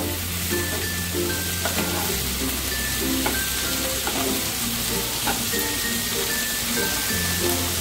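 Tomatoes and onions fry with a little salt in a hot pan, giving a steady, close sizzle with soft scraping stir strokes repeating throughout and no voices.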